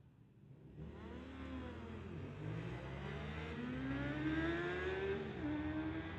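A 2021 Yamaha and a Honda CBR motorcycle drag race on a street-legal strip, engines revving and rising in pitch as they accelerate away, heard somewhat distant with a steady climbing whine.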